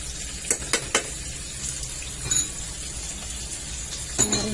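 A spoon stirs yellow corn soup with malunggay leaves in a pot over a low, steady simmer. A few sharp clinks sound against the pot, with no talking.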